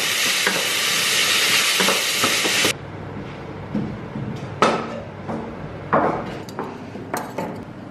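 Food fries in a pan with a loud, steady sizzle for a few seconds. Then the sizzle cuts out, leaving intermittent clanks and scrapes of a utensil stirring against the pan.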